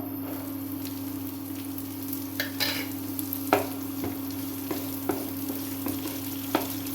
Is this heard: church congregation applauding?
no